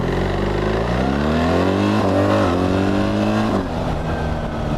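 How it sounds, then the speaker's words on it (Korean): A BMW R1300GS Adventure with ASA automated shifting accelerates hard in first gear in D mode, engine pitch climbing steadily over several seconds with a brief stutter before easing off at the end, loud and close with no talking. "그래서 지금 D 모드인데 1단에서 가속을 한번 가보겠습니다."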